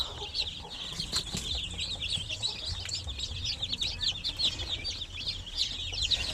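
Basilan native chicks, from days to about a month old, crowd a low-budget brooder, their high peeping forming a dense, continuous chorus close by with soft flutters and no talking.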